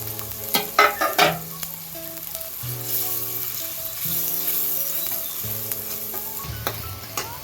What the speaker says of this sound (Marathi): आपल्याला तेल सुटस्तोपर्यंत कांदे भाजून घ्यायचे आहेत